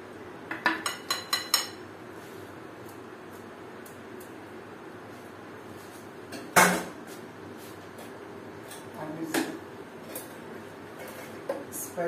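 Bread going into a lightly greased hot pan while cooking breakfast, with a quick run of close metallic clinks and clatter at the start, then a sharp knock and softer scraping of utensils in a quiet kitchen.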